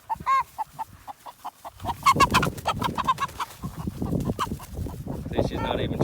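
A rapid series of hen clucks sounds nearby, then continues under a person talking with wind noise in the background, as young American Bulldog pups mingle with the chicken flock.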